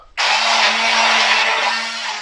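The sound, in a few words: blender mixing meatball marinara sauce ingredients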